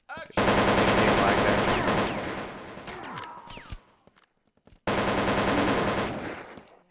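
Rapid bursts of machine gun fire from the Action Quake 2 video game fill the clip, with a long loud stream, a ragged tail and a short pause before a second heavy burst.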